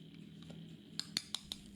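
A hand whisk beats margarine and powdered sugar in a bowl, with soft scraping followed by four quick metallic clinks of the wire against the bowl, close and quiet.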